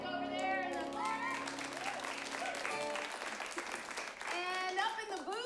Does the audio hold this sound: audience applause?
yes